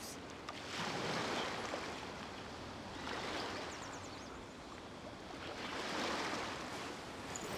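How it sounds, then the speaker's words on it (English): Ocean waves in the video game Genshin Impact wash in and recede in slow, broad swells, a continuous loud surf rising and falling about every three seconds with no voices. "The sound of the ocean waves."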